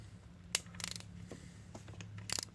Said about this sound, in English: you're going to need an extended ratchet to get down here and get to these bolts